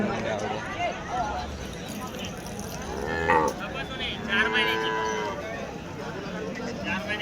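Jersey cows moo loudly a few times in drawn-out calls at a busy cattle market in Vadod, with people talking nearby and general crowd noise.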